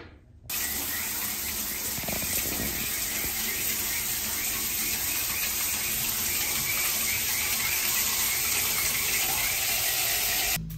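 Water runs steadily from a newly installed shower head in a home in Cusco, Peru, giving a constant, close, full-bodied hiss that starts abruptly and continues without break for about ten seconds.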